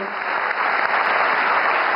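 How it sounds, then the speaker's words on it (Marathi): An audience at a Marathi literary conference applauds loudly after a song, a dense, steady roar of clapping hands that continues without a break. "पुन्हा एकदा जोरदार टाळ्यांचा गजर करूया"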